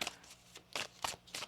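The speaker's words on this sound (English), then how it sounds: "One more shuffle." Oracle cards being shuffled by hand, heard as a few quick, close riffling bursts in a quiet room.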